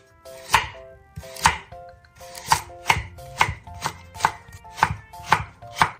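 A knife chops carrots into thin strips on a cutting board, with about eight crisp, sharp strokes in a steady, unhurried rhythm, close and clear with nothing else heard.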